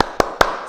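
Kids clap three quick, regular beats for a 'tepuk semangat' cheer during Sunday school, the sharp hand claps close and bright against a quiet room.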